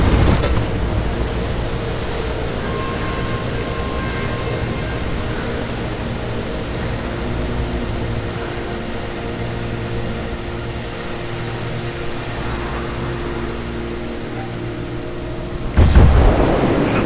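A helicopter in the video game Mirror's Edge, a steady loud rotor-and-engine roar with throbbing low rumble sustained throughout, ending in a brief sharper burst near the end.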